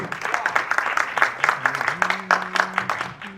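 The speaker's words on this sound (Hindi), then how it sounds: "बस जोरदार तालियां उमेश सर के लिए" Audience members at an album launch clap in a moderate, uneven burst, individual claps distinct and rhythmic over a low sustained musical tone.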